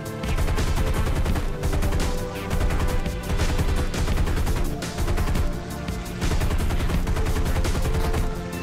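Sustained heavy gunfire in War Thunder, with dense rapid bursts and loud booming shots overlapping almost continuously, briefly easing between clusters.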